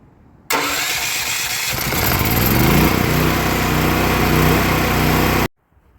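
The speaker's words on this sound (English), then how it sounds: "to start the generator, you have to switch this up into the on position, turn the battery power on, this little light will come on, and then you just have to hit the start button" A portable generator started by push button cranks and fires at once, then settles into a loud, steady engine drone lasting about five seconds before cutting off abruptly, with no talking.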